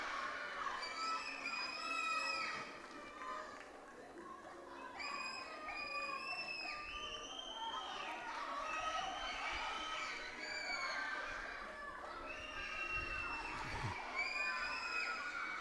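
Parents and teammates cheering an under-13 boy cyclist at a national youth cycling championship in Trinidad and Tobago, a sustained mix of children's shouts, whoops and crowd cheering that carries on throughout at moderate distance.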